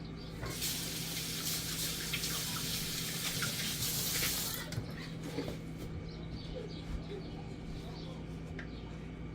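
Tap water runs in a steady, close hiss while Nigerian beans are washed for akara, pouring for about four and a half seconds before cutting off and leaving a low background hum.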